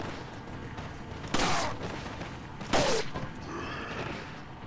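Two sharp gunshots from the video game Resident Evil 4, spaced apart over a low game backdrop, fairly loud and with no talk.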